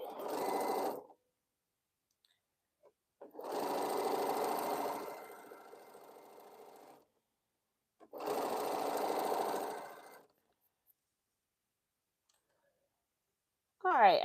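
A Brother sewing machine stitches a quilt in three separate bursts of rapid mechanical whirring and clicking, each lasting one to three seconds, with silent pauses between them and a short sharp sound at the very end.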